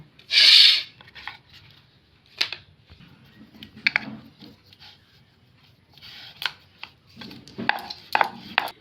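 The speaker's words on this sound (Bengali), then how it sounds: "আমি এরকম করে সবগুলো বেলে নেব" Nimki dough of flour being rolled out with a rolling pin, heard as soft intermittent rubbing and scraping strokes on a board, with one louder scrape at the start and scattered taps.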